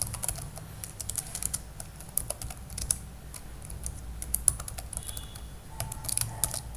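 Rapid clicking keystrokes on a computer keyboard while code is typed, quiet and close, in irregular bursts with short pauses and no speech.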